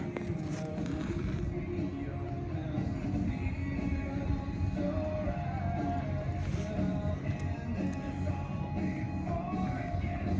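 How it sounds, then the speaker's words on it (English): Outdoor wind buffets the microphone in a steady, loud low rumble that lasts the whole clip without letting up. "The wind is picking up."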